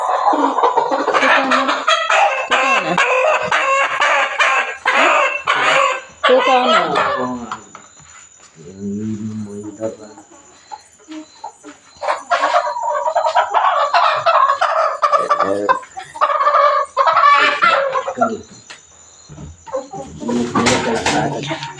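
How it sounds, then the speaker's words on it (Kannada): A rooster clucks and cackles in short bursts close by, alongside other fowl, with people talking over much of it. "ಅದೇ ಒಂದು ದಪ್ಪದು ಇಟ್ಕೊ ಹುಂಜನ"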